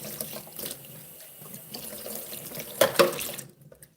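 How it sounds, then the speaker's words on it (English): Water poured into mahamri dough in a home kitchen, light splashing and trickling with a couple of louder pours near the end, then a quick fade to quiet. "I also like to add like 2 tablespoons of water."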